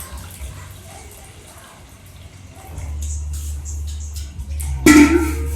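Water, about 200 ml, pours into a one-litre jug for a homemade liquid. It comes after a quiet, low-humming stretch as a sudden, loud, steady rushing stream near the end.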